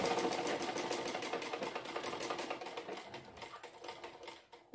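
Sewing machine stitching a doubled cord to make a thin round cloth tie: a close, rapid, steady run of needle clatter that gradually fades and slows near the end, with no talking.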